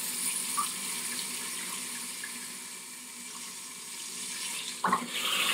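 A boat's lateral thruster pushes water out sideways, steady rushing water churning continuously at a constant level, ending with a short splashy thump.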